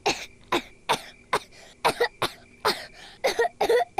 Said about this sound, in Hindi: आपको अचानक इतनी खांसी क्यों होने लगी?